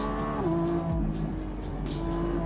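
A Lamborghini Revuelto V12 hybrid on a race track gives a loud, continuous engine drone heard from inside, its pitch shifting as the car slows and then pulls again.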